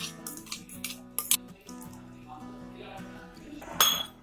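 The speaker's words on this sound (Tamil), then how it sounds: "இது கூடவே நம்ம அரைச்சு வச்சிருந்த இந்த பேஸ்டையும் கலந்துக்கலாம்." Wheat flour and ground paste being mixed in a bowl give a few light clinks and scraping stirs, close and moderately quiet, over a steady background hum and without talk.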